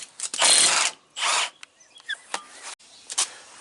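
Ratchet wrench loosening the wheel nuts on a 1997 heavy truck: loud bursts of ratcheting clicks close by, separated by sharp metallic clanks and pauses.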